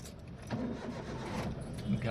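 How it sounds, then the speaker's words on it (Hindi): A Hyundai Eon car engine cranks and catches, a brief muffled start settling into a low idle, faint and close, with a voice talking over it. "आप देख सकते हैं गाड़ी स्टार्ट हो गई।"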